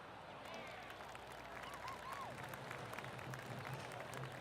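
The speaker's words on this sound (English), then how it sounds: "Oh, golf clap, that's a beauty." Polite golf gallery applause in the video game PGA Tour 2K23, a steady, moderately loud patter of crowd clapping sustained throughout, with commentary voices over it.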